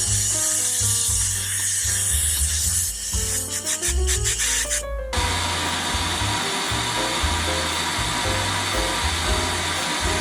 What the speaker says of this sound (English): I'll just use a little bit of compressed air and I'll be able to blow the remainder of that out.